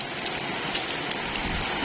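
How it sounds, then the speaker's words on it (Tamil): Heavy monsoon rain pours down steadily in Chennai, a dense hiss of drops pattering on surfaces with a few louder splashes and no voices. "அவ்வளோ மழை பெஞ்சிட்டு இருக்கீங்க"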